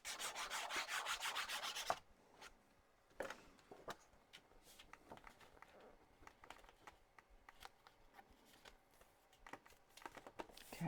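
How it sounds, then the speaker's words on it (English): Paper being burnished down by hand onto a vintage-style Halloween scary-story craft album, heard as soft, dry rubbing and scraping strokes, with a loud steady run of rubbing at the start and then scattered close taps and rubs. "Okay, burnish that down."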